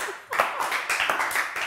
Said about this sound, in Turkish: Yarışmacılarımız da üzgün alkış vuruyordu ama bir tanesi kendini tutamayıp sevinçle alkışladı